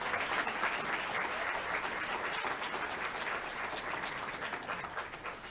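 Graduation ceremony audience applauding a new doctoral graduate, dense steady clapping from a large crowd filling the hall at an even level throughout, with no voices over it.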